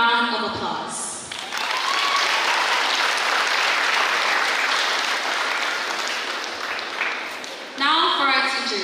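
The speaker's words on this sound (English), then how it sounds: "Let us give them a round of applause." Sustained, dense applause from a large audience at a 2022 Catholic high school graduation for the graduating class, with brief speech at the start and end.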